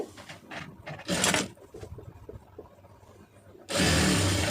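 A sewing machine stitches a saree joint with a quarter-inch seam allowance, giving short mechanical bursts of running stitches broken by pauses, then a louder steady whirring run near the end.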